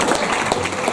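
Audience at a lecture applauding, a dense burst of clapping from many hands, loud and close, filling the whole moment.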